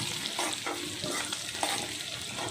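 Dried fish with bottle gourd, prawns and red spinach sizzles in hot oil while being stirred in a pan, with a constant frying hiss punctuated by rhythmic scraping strokes of the spoon, close up and without talk.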